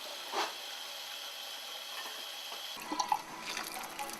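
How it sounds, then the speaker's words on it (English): A child splashes toy dishes in a small dish of soapy water, soft sloshing and dripping that turns into a few louder clinks and splashes near the end. "I give her a little dish of soapy water and some fake dishes, and then she can do dishes with me"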